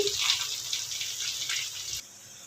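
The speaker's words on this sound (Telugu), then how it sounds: "మెంతాకుని ఇలా కట్ చేసి ఇలా వాటర్లో కడుక్కోవాలండి" Water sloshing and splashing close by as fenugreek leaves are swished around in a basin of water, then the splashing stops abruptly.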